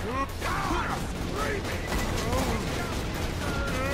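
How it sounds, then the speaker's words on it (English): Steady gunfire while shooting enemies in Borderlands 2, rapid repeated shots running throughout alongside bright weapon and effect tones, with continuous game noise underneath. "I'm shooting all these fucking guys, dude."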